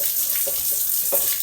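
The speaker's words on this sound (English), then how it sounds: "I use Dawn or whatever detergent you got. And then I start with the scrub brush." Running water splashes steadily into a sink while a cast iron skillet is washed with dish detergent, with a couple of brief scraping strokes from a scrub brush.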